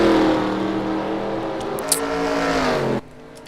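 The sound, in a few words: V8 Supercar race cars on track, from a racing game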